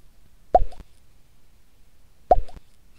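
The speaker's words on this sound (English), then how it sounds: "if I want that bubble pop to match up with the animation a little bit better" Two short, bright bubble pops, spaced about two seconds apart, crisp and close against near silence.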